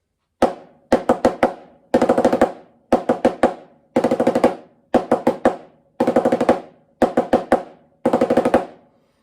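Snare drum rudiment exercise alternating 8th notes with 16th note triplets played with diddles, crisp close strokes in a steady repeating pattern of short bursts separated by brief gaps.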